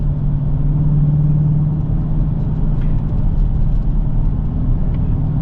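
A 2023 Dodge Challenger R/T V8 engine and exhaust grunt with a deep, steady rumble heard from inside the car, a constant loud drone with no talking.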